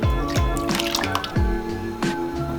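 Washed sago pearls drop into hot water in a pot, making close wet plops and gloopy splashes in quick irregular succession, with no talk.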